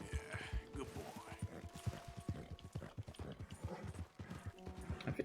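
Horse hooves clip-clopping in the video game Red Dead Redemption 2, a male horse walking in a steady rhythm of close, moderately loud hoof beats, with a voice talking over them.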